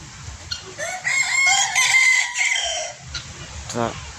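A rooster crows loudly in one long drawn-out call, followed by a few short clucks and chirps nearby.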